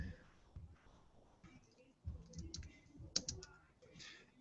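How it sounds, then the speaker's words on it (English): One-handed, left-handed typing on a laptop keyboard held up in the other hand during a standup meeting: faint, irregular key clicks scattered among nearby speech. "I'm one-hand left-handed typing while I hold my laptop up in the other hand"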